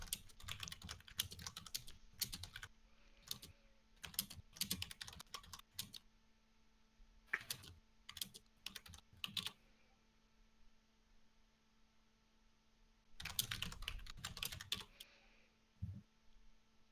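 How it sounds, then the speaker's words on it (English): Bursts of rapid clicking keystrokes on a computer keyboard come in uneven clusters with short pauses, close and fairly quiet over a faint steady electrical hum. "do the typing thing"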